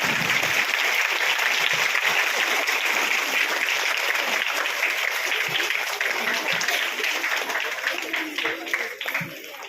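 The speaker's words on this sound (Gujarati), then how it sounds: "આપણે સૌ આ દીકરી માટે જોરદાર તાળીઓથી એને બતાવીશું." A school audience at a Republic Day flag-hoisting ceremony at a village primary school in Ambaliyasan breaks into loud, dense applause that holds steady for the whole stretch and eases slightly near the end.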